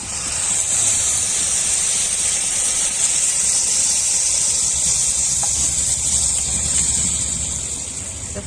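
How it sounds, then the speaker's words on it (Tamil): Milk poured over sautéed carrots in hot ghee for carrot halwa, a loud, sustained hiss and rushing steam that holds steadily before easing slightly at the end. "இந்த ஸ்டேஜில் நம்ம பால் ஆட் பண்ணிக்கலாம்"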